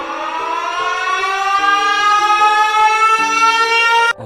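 A loud, sustained siren wail rises steadily in pitch and holds for several seconds, stepping between tones before it cuts off abruptly, the cry of the skeletal Siren Head creature with two sirens in place of its head.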